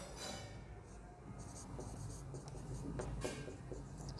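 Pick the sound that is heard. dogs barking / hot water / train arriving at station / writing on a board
writing on a board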